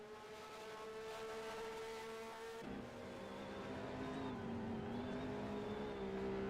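Race cars in a 2023 SLC GTI Lakeside Castle race circuit event, engines droning steadily with shifting pitch as they run around the track, a sharp gear change partway through, fairly distant and moderately loud.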